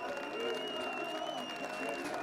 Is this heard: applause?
yes